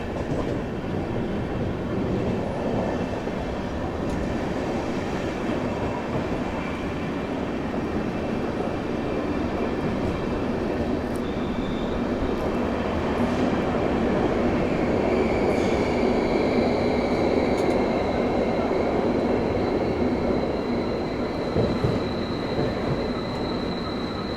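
Riding aboard the 12025 Shatabdi superfast express as it pulls into Begumpet, a steady rolling rumble of wheels on track with faint squeals and clatter rising in the later part, no speech.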